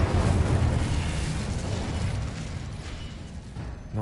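An Incendio fire spell cast in the Hogwarts Legacy video game bursts out as a loud whooshing roar of flame that slowly fades over a few seconds.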